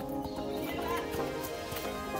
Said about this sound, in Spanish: Galopan los caballos, che.